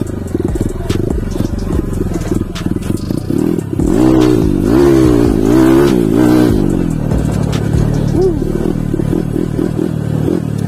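Kawasaki KLX 140RF dirt bike bored up to 170cc with 63mm bore, stock stroke and stock valves, idling then revving hard in several rising-and-falling bursts, loud and close, then settling back to idle.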